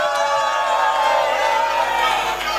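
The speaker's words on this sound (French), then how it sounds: "On applaudit encore pour vous les gars." A crowd at a comedy night cheers and shouts in a continuous loud roar, with raised voices and whoops blending into a steady wall of noise.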